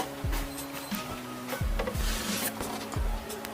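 A Badak Hitam pannier box for a motorcycle is opened, giving a few low, hollow thuds and clunks along with rubbing and scraping of the case and lid, close and fairly loud.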